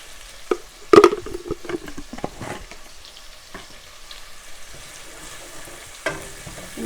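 Garlic-ginger paste frying in hot oil with cumin seeds, a cinnamon stick and chilies, a soft continuous sizzle with a few sharp stirring clatters up close.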